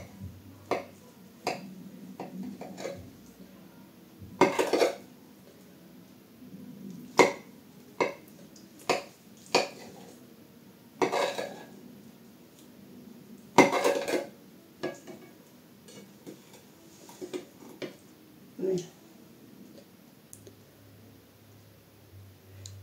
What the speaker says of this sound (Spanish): Vamos a cortar un trocito.